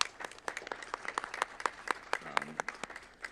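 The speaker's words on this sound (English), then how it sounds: "So I would ask that if you don't mind just giving them a little round of applause." A small board meeting audience gives the campus team a short round of applause, sparse individual claps at close range with a murmuring voice briefly underneath.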